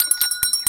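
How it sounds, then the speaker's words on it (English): A bell is rung several times in quick succession on a late-night show stage, a run of bright, ringing strikes spaced about a tenth of a second apart, clear and close. "can you ring the bell?"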